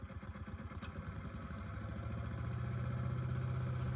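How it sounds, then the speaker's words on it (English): A small engine-powered wood chipper runs steadily nearby, its throbbing idle holding an even rhythm and growing slightly louder and fuller throughout, with no talking. "After troubleshooting a few things with the wood chipper, I finally got it running."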